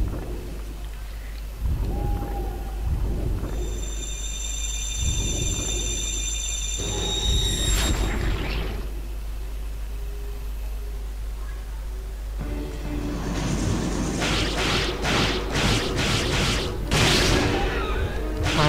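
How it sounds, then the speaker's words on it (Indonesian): Thunder and lightning strike in the video game Onimusha Warlords Remastered, loud crackling booms and crashes bursting repeatedly among game effects and tones, heavy rolling impacts clustering toward the end. "Mantap, petir."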